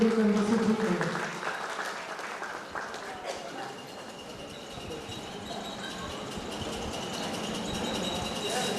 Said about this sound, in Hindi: माताओं के लिए माताएं ही तालियां बजा रही हैं